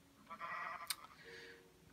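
Sheep bleating in Minecraft, penned in a snowy biome: a short electronic bleat bursts in the middle, followed by a second softer bleat, with a faint sharp click between them.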